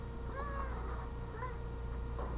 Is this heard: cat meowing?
yes